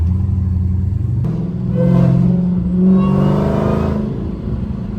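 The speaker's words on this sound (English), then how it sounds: "we about to test out our new air intake right now. We going for a little drive." A Hellcat-swapped car with a new air intake, its engine a loud, deep rumble that swells twice as it accelerates while driving.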